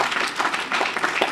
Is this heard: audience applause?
yes